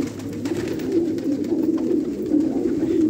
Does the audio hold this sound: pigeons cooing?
yes